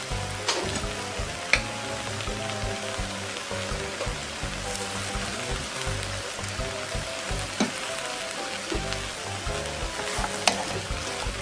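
Ivy gourd leaves cook in a pan with a splash of homemade soup, giving a continuous close bubbling sizzle with scattered sharp pops and crackles throughout.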